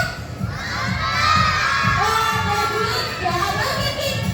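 A crowd of children shouting and cheering together at a lively indoor gathering, a loud, sustained wash of high excited voices that swells and holds throughout.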